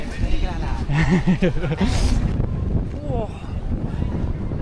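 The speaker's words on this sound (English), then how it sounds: "my gosh, it's so windy" Strong wind gusts along an old-town street in Poland, roaring and buffeting the microphone in a low, uneven rumble while a person exclaims and talks over it.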